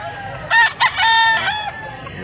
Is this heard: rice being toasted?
no